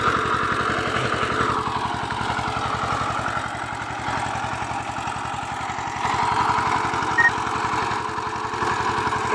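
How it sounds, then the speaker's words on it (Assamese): A tractor engine runs steadily at close range, a continuous pulsing mechanical drone with a faint clatter, while the tractor is hooked up and pulled through a field for ploughing. No one speaks. "এতিয়া ট্ৰেক্টৰ লগাই দিলোঁ"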